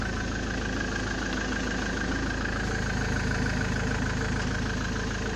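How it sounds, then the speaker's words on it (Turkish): Car engine idles in a steady, dense rumble with no change in pace, close and continuous throughout with no other sounds standing out. "Çalışıyor motorun sesi."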